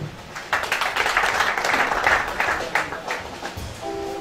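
A church congregation breaks into sustained applause and cheering, a dense wash of clapping that swells and holds for several seconds before easing off.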